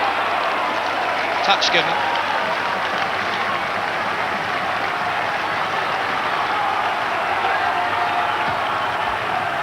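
A packed rugby crowd at Northampton applauds during a Pilkington Cup semi-final against Gloucester, a loud continuous roar of clapping and crowd noise throughout, with a commentator talking over it.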